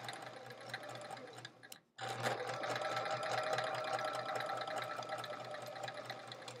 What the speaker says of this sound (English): And we're gonna sew on the one side.